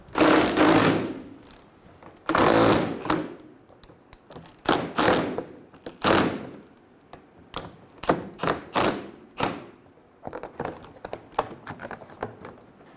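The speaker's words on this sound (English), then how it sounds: "Remove the 10mm bolt at the corner of the bumper." A 10mm bolt comes out of the bumper corner of a 2003-2008 Honda Pilot, heard as close, sharp rattling tool bursts and clicks in uneven clusters with short gaps between.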